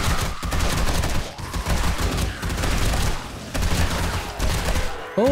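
Rapid automatic gunfire from a weapon in the zombie survival game 7 Days to Die rattles almost continuously in dense, loud bursts, with brief pauses between strings of shots.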